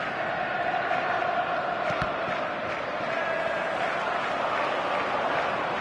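A football crowd roars in a dense, continuous wall of stadium noise, with scattered shouts and a brief sharp thump rising out of the steady din.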